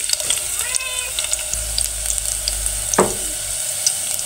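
Garlic sautés in cooking oil, a continuous close frying sizzle with a few clanks and stirring scrapes, and a brief voice in the background.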